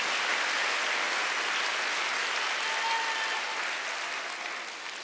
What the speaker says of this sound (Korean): 빨리 박수 주세요.